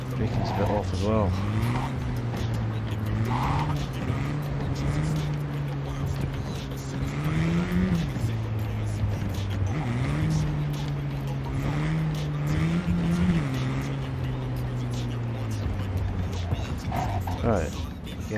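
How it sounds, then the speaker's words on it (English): A car in the video game Cyberpunk is driven with a steady engine drone whose pitch rises and falls as it accelerates and brakes, loud and continuous throughout, with a few short squeal-like accents. "It's not easy to drive these cars."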